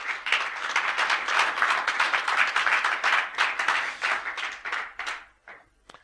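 A church congregation bursts into loud, dense applause, many hands clapping close and steady for several seconds before it thins out and fades.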